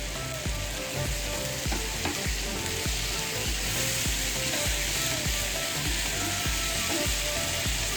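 Tomatoes and spices for Amritsari chole fry in oil with a steady, close sizzle, while a regular pulse of low knocks and scrapes from stirring runs through the whole stretch.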